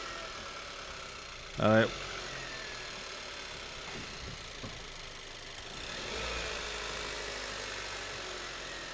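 A 2013 Kia Soul 1.6 GDi engine that runs rich, idling quietly with a steady low hum, a brief voice interrupting early and a slight swell later on.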